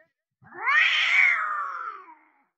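A single drawn-out meow voiced by a person imitating a cat, rising then slowly falling, close and fairly loud, with no other sound around it.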